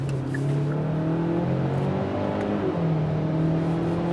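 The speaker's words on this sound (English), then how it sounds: "Throw this around this corner here, and on the throttle." A 2021 Kia Sorento X-Line is driven hard through a corner on the throttle, its engine droning steadily and rising in pitch under constant road and wind noise heard from inside the cabin, with no talk.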